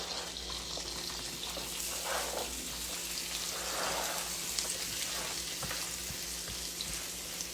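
Cornbread dressing ingredients fry in a hot skillet with a steady, close sizzle and crackle. The texture stays even throughout, with small pops and stirring sounds and no talk.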